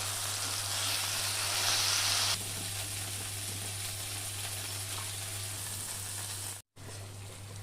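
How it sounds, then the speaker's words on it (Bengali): Tomato and whole spices frying in a pan, a steady close sizzle and hiss that drops slightly in intensity partway through, with a brief cut near the end. "টমেটো টমেটোটা ভালো করে ভেজে নিয়ে দিয়ে দিচ্ছি"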